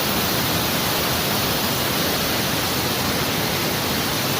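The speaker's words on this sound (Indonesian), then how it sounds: "Itulah bagus sekali air terjun." Doro Lede waterfall, a natural cascade beside a cave, pours in a loud, steady broadband rush that fills the whole clip with no pauses and no voices.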